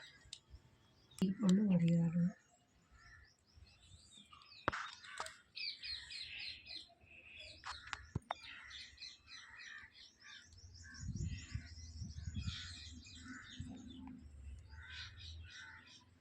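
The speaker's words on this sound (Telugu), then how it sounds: "పక్షులు గోల్ చేయడం కానీ కాకులు అరుస్తున్నాయి." Sparrows chirp and crows caw outdoors around a rooftop, scattered calls at a moderate distance, with a loud low thump early on and indistinct talk partway through.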